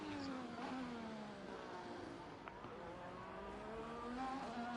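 A race car in a racing video game holds a steady engine drone with pitch bending down and back up as it brakes into a final corner, continuous and close.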